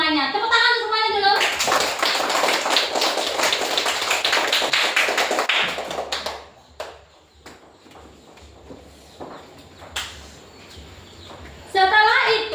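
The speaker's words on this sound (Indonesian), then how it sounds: "Tepuk tangan semuanya dulu." A classroom of students claps hands together on a teacher's cue, a loud burst of brisk clapping that fades into scattered taps, with a voice talking briefly before and after.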